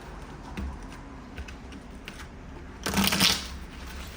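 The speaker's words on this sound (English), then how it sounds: "Let's get you some advice cards from Spirit Guide Universe" A Spirit Guide Universe advice card deck is shuffled by hand, soft riffling and ruffling through most of the clip, with a louder burst of cards flicking near the end and no speech.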